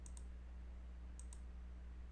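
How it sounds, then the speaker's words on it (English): Computer mouse clicks while working in structural design software: two pairs of sharp, quiet clicks, one pair at the start and another about a second later, over a steady low hum. "So if you click on them"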